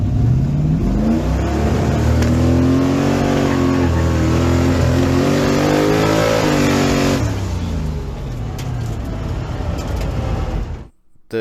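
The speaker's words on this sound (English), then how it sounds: "I went ahead and went to the drift track and did some test launches on the straight." A Ford Foxbody Mustang launching down a drift-track straight in winter: a loud engine climbs steadily in pitch through a long pull, eases off after about seven seconds, then drones lower before cutting out.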